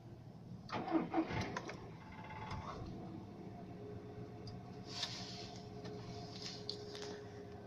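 A car engine cranks and catches at -26 in Yakutsk after Webasto preheating, then settles into a steady idle that stays fairly quiet and close.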